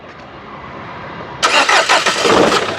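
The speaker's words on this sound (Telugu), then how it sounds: "సింగిల్ సెల్ఫ్లో కార్ స్టార్ట్ అవుతుంది" Quiet background hum, then a 2015 Nissan Terrano XL engine cranks and catches abruptly, settling into a loud, steady running rumble nearby.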